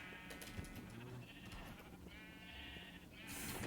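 Sheep bleating in the video game Minecraft, a couple of faint, quavering bleats over a low background hum, fairly quiet and alone without talk.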